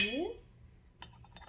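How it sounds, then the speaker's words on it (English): A metal lid is set onto a glass canning jar filled with mushrooms, giving a couple of light clinks after a brief voice at the start, fairly quiet in a kitchen. "Now all we're going to do is put a lid on the jar."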